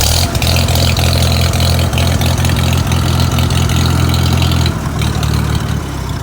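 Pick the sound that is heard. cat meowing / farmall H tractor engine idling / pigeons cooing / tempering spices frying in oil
farmall H tractor engine idling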